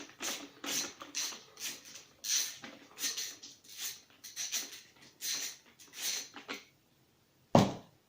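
Repeated short ratcheting bursts from an 11 mm wrench loosening the axle nut on a roller skate wheel, close and fairly loud, in an even rhythm of about a dozen strokes, then a pause and one sharp final knock.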